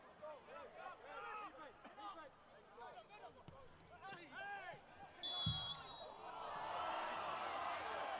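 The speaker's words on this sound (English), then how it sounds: "you can hear the home crowd's opinion of Alex King's decision there." Home supporters at a Brisbane Strikers versus Wellington Phoenix FFA Cup football match at Perry Park swell into a broad, rising roar of reaction, a loud distant-sounding wash following commentary talk.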